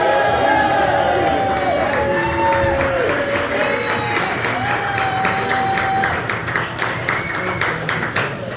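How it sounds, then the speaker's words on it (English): Crowd at a New England Free Jacks rugby winter party applauds and cheers for the general manager, a steady dense wash of clapping with whoops and shouts throughout, loud and close. "Give him a round of applause."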